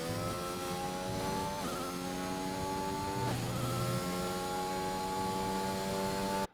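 Race car engine on the Imola circuit in a racing video game, holding a steady loud harmonic drone with two brief lifts and dips in pitch as it shifts through the corners, continuous and close throughout.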